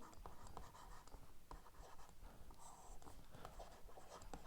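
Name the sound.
writing notes by hand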